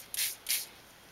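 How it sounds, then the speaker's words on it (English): Two quick hissing spritzes from a small water spray bottle misting ink on paper, close and crisp, each lasting about a quarter second with a short gap between them. "you grab a little water spray"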